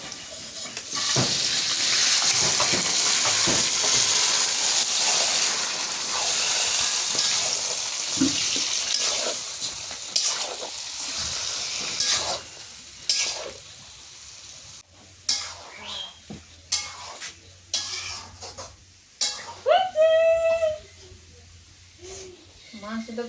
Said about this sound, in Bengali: এখন পেঁয়াজটা ভালো করে ভেজে নিয়ে মাংসটা দিয়ে দিই।